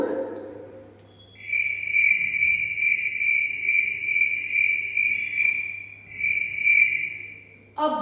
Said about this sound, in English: a cricket singing in a shady nook